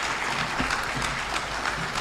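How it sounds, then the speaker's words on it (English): A conference audience at a parliamentary budget offices gathering applauds the chief guest, a steady, full wash of clapping from many hands that runs unbroken through the whole stretch. "Shall we be upstanding and applaud"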